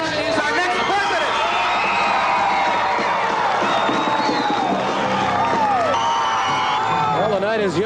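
A large crowd at a 1980 election-night gathering cheers, whoops and shouts in a loud, continuous roar over Ronald Reagan's projected presidential win, with high voices and applause mixed in and no break throughout.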